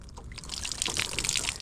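Cold water poured over a fishing reel damaged on a jetty, a brief close splashing and trickling that grows slightly toward the end.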